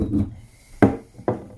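Rough stone-on-stone grinding strokes as grain is worked into flour on a grinding stone, ancient Egyptian style; three short rasping scrapes close up, each with a sharp onset and fading tail.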